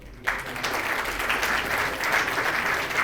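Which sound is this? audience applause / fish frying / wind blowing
audience applause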